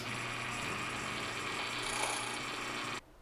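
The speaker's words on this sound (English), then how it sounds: "I want to move that black dot that you see on there towards fine until I hear the stones touch" A Komo grain mill set toward fine until its stones touch gives a steady, close whirring grind with a dry rasping edge, then stops abruptly near the end.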